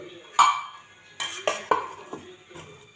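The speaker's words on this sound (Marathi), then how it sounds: "शेपूची भाजी उकळत असताना त्याला थोडंसं हलवत राहायचं आहे, म्हणजे बेसन पीठ छानपणे मिक्स होतं." A spoon stirs a pot of boiling dill leaf curry thickened with gram flour, making a few sharp metallic clinks and scrapes against the pot's rim over a quiet background.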